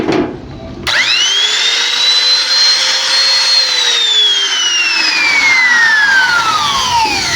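Lotus LTPR550X 550W palm router/trimmer with a 1/4-inch bit, switched on after a brief quiet moment and then running steadily and loudly, its high motor whine gradually falling in pitch as it runs alone.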